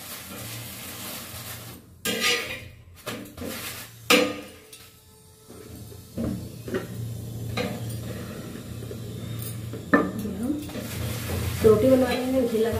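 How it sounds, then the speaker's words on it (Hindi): Roti being made with ghee in a home kitchen, with irregular stirring, scraping and clinking of pans and utensils, soft sizzling and a steady low hum underneath, mostly without voices. "रोटी बना रहे हैं घी लगा के"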